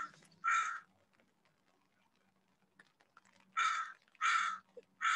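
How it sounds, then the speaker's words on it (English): A crow caws near a park pond with mallard ducks: one harsh call, a pause, then three loud caws in quick succession, close and clear over a quiet background. "Maybe if the crow stops cawing"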